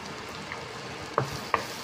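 Chopped garlic fries in melted butter in a pan with a soft, steady sizzle. Two brief utensil clicks sound near the end.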